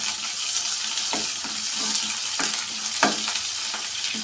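Onion sizzling in hot oil with cumin seeds and a dried red chilli for a bottle gourd curry, a steady close frying hiss broken by a few stirring scrapes, with no talk.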